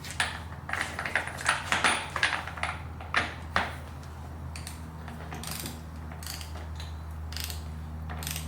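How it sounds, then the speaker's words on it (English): A big torque wrench ratchets in short bursts of clicking strokes while tightening the axle nut on a 2021 KTM SMC R motorcycle, close and crisp over a low background hum. "So the axle nut needs to be tightened to 90 Newton meters, so I need the big torque wrench."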